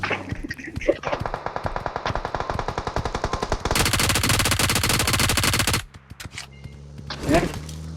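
Rapid automatic gunfire in PUBG Mobile, a dense string of close, loud bursts that swells into sustained fire before breaking off, with brief shots afterward and a voice in the background.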